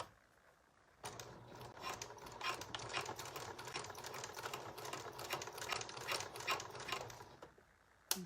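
A sewing machine runs a flat felled seam down the center on jeans-style fabric, a steady rapid mechanical clatter with ticking stitch pulses that starts after a quiet second and continues close and alone.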